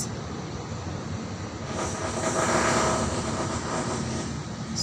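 An MRT train at Kallang station in Singapore rumbles past with a continuous broad roar that swells toward the middle and eases off, loud and fairly close, with no talk.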